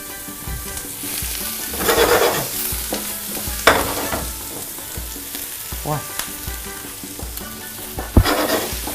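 Ratatouille vegetables sizzle and crackle in a hot frying pan, with a few louder stirring scrapes and clatters breaking through the steady frying hiss.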